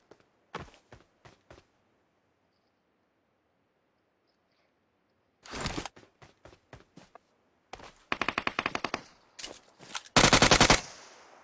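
Bursts of rapid gunfire from PUBG Mobile, separated by short silences: a few single shots, then several long automatic volleys growing louder toward the end.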